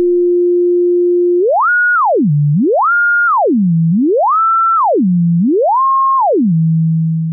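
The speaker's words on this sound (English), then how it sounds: "Now we should hear the Synth in action." A battery-powered Daisy Seed synthesizer plays a pure sine-like tone that holds steady, then sweeps up and down four times in smooth, even glides, clean and loud with nothing else heard.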